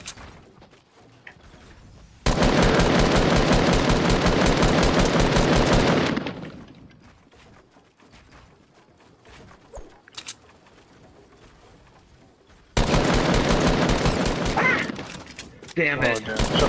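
Two long, loud bursts of rapid automatic gunfire in Fortnite, the first lasting about four seconds, then a quieter stretch with scattered sounds, then a second sustained burst, with a voice talking in between.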